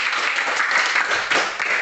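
Classmates applaud a student group after a presentation in a school language class, a brief burst of lively clapping close by with no talking.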